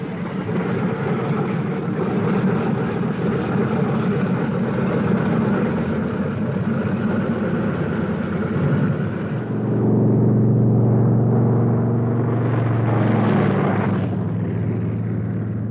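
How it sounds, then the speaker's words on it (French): Heavy piston engines of a Boeing B-17 Flying Fortress bomber taking off roar loudly and steadily, then the pitch and rumble shift as the sound swells and changes, close and powerful throughout. "Des B-17 transformés en drones, profondément modifiés et télécommandés à partir du sol décollent."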